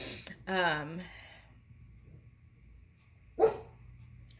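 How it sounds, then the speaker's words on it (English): A dog barks a couple of times indoors, a drawn-out yelping bark followed later by a sharp single bark, with a quiet room in between. "Oh, here goes my dog."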